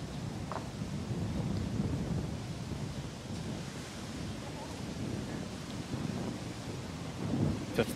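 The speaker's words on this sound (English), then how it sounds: "Feels almost a little bit stormy." Gusty wind and rain of a building storm sweep across an outdoor lawn bowls green during a men's fours final, a steady broad roar with a few stronger gusts near the end and faint voices underneath.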